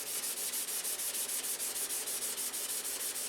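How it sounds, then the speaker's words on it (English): Steady rhythmic hand sanding of primer on a model airplane with 600-grit paper, fine back-and-forth strokes repeating quickly and evenly, close and fairly quiet with no talking. "I've done all the detail sanding, and now we're bringing the primer down."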